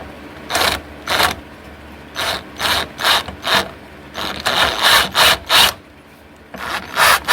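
A ratchet with a 13mm swivel socket tightening a bolt on the front muffler hanger support of a 2008 Dodge Charger R/T, giving close, loud clicking bursts in irregular groups with brief pauses between strokes.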